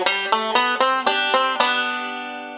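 A banjo plays a quick run of bright plucked notes, with the first and second strings pinched together on the last note, about six sharp attacks in a row before the final chord rings out and fades, close and clear with no talking.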